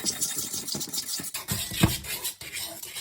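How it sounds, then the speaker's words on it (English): A whisk scrapes and swirls through a pan as garlic sauce and red blended jalapeno peppers are folded into a creamy mac and cheese sauce, a soft, close, irregular scratching rhythm with faint clinks. "Going to gently whisk that in."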